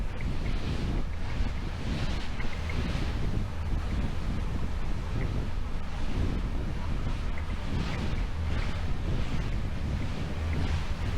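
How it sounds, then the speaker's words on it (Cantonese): Strong wind buffets the microphone aboard a boat at Tai Long Wan, Sai Kung, over the steady rush and crash of heavy waves, a loud, continuous roar with surging swells throughout. "咁鬼大浪嘅"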